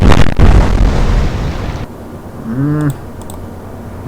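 Naval guns fire in the warship game Atlantic Fleet, a loud close boom opening straight into a dense roaring rumble that cuts off, followed by a brief voice and faint clicks.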